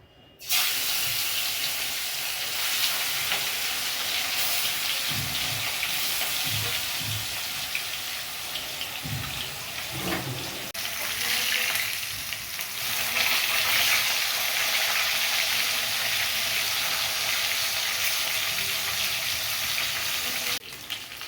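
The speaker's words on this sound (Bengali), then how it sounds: "তেল গরম হয়েছে, মাছ দিয়ে দেবো।" Large katla fish pieces rubbed with salt and turmeric frying in hot oil in a wok, a loud, steady, dense sizzle that continues throughout with a few faint knocks.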